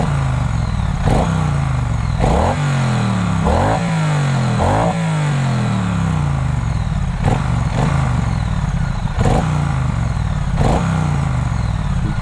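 A Triumph Street Twin motorcycle engine idles with a loud, throaty rumble and is revved repeatedly in sharp blips, each rev rising and falling quickly, close to the bike with no speech.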